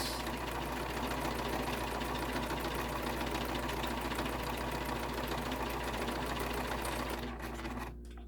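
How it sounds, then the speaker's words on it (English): A sewing machine hums continuously around the edge of a cotton canvas wristlet, its rapid needle chatter loud and even for several seconds before it slows and cuts off at the very end. "We're going to sew all the way around"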